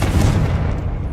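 A Confringo fire spell blast in Hogwarts Legacy on PS5, a loud booming low burst that rumbles on for about a second with no voices.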